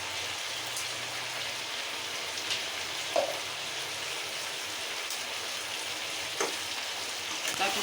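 Chicken pieces with turmeric powder sizzle steadily in a pan, a continuous close, even crackle with a couple of brief clinks or pops and no talking.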